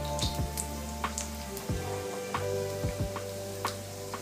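Dry coconut slices sizzling and roasting in hot oil in a pan, a steady close crackle broken by regular scraping strokes, with a low hum running underneath.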